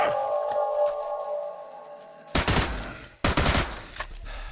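Two loud, close shotgun blasts about a second apart fire in the Into the Dead 2 zombie game, each with a heavy low boom and decaying rumble, following a sustained tonal game hum.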